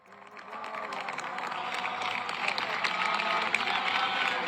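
A large stadium crowd at a Barcelona football match produces a broad, building roar of whistling and jeering that swells and grows louder across the stretch.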